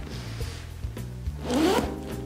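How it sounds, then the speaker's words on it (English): Zipper on a new Louis Vuitton bag pulled in one smooth, close rasping sweep, preceded by soft handling and rubbing of the bag, with no speech. "Nice smooth zipper."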